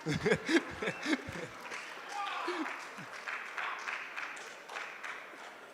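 Round of applause from an audience at a university World Intellectual Property Day event, moderate and sustained clapping that swells briefly and carries on steadily, with a voice speaking over the start.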